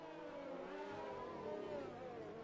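Faint whining engine note of a McLaren Formula 1 car in a racing game, a steady high-pitched drone with slowly shifting pitch, distant and continuous.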